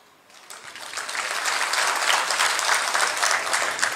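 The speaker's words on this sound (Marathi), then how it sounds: "टाळ्या कमी वाजल्या." An audience at a Shiv Sena political speech breaks into applause that swells quickly and holds as a steady, dense clatter of many hands clapping.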